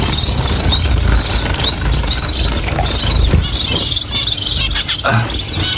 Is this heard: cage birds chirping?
yes